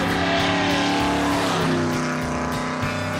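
A car runs at full throttle around a track, its engine roaring close and loud with rising and shifting revs, steady throughout with no talk.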